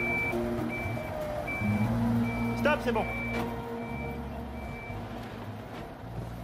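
A tow truck reverses with its backup alarm beeping in a steady, evenly spaced series over a constant engine rumble, while a man calls out directions nearby.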